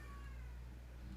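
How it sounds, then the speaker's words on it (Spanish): A house cat meows once, faintly, in the background beneath a steady low hum. "se escucha, yo creo que de fondo mi gato"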